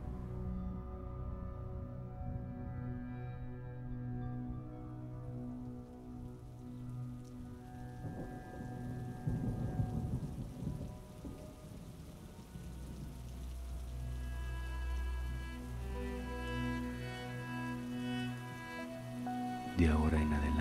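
Steady rain patters on a surface throughout, with a low background rumble; no distinct thunderclap stands out.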